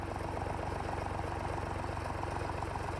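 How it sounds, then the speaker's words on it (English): A tractor engine runs steadily on a small-scale organic farm, a continuous low rumble with a regular mechanical throb at moderate distance and no talk. "This tractor would work over 2 beds."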